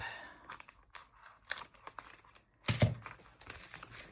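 Close crinkling and rustling of tape handled for a paper journal, a scatter of small taps and crackles ending in one louder tearing rip, then soft handling.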